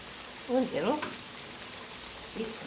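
Floured, lightly salted tuna frying in a pan for an Algerian summer dish, giving a faint, steady sizzle with a brief burst of louder crackle near the start.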